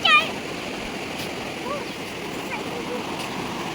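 The Kosi river flows in a steady rushing wash of water, a constant moderate roar with faint splashes and no clear breaks.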